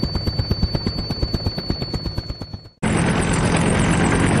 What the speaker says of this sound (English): Heavy lift helicopter.